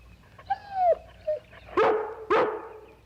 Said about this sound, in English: If you want to stay and bark at that squirrel all day, it's all right with me.